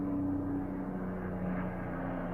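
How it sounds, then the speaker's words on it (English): Low-flying airplane passing overhead, a continuous dull engine drone filling the whole stretch at steady volume with no voices. "there's a plane flying kind of low"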